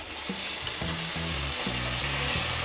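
White vinegar poured onto hot cooked raw mango peels for a pickle sizzles steadily and loudly up close, with soft low knocks of stirring in the pan throughout.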